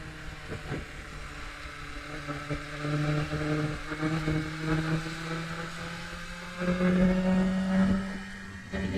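A 2026 BMW S1000RR motorcycle, still in break-in, rides a mountain road near Medellin, its engine droning steadily with rising and falling pitch through gear changes, mixed with wind rush, no talking.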